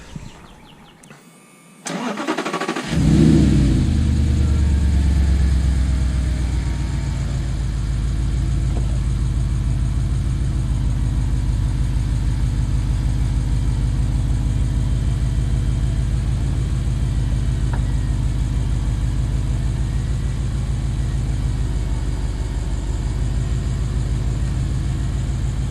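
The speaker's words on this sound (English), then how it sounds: "you'll hear the sound of it. They sound really good." Audi R8 Spyder engine starting after a quiet moment, catching with a loud bark and then settling into a strong, steady, deep idle close by that holds for over twenty seconds without talk.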